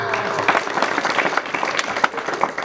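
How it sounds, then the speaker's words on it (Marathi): An audience breaks into dense, lively applause at a public lecture about Chhatrapati Shivaji Maharaj. Many hands clap at once in a loud, continuous patter that holds steady throughout. "असल्याच टाळ्या वाजल्या"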